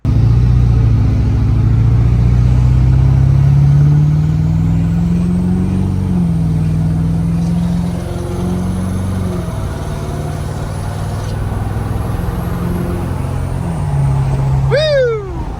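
A 2017 Ford 6.7 Powerstroke diesel pickup fitted with an S&B open air intake drives along, its low engine drone steady and close throughout, with a brief sharp hiss of air release near the end.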